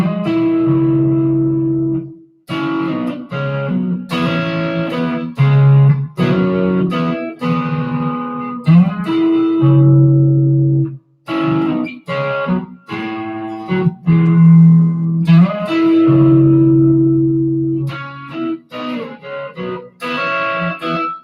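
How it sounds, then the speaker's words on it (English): An electric guitar riff on a Fender Stratocaster, loud and upfront, with distorted, effects-laden phrases of sustained notes and short bursts separated by brief pauses. "That's such a beautiful riff, I find."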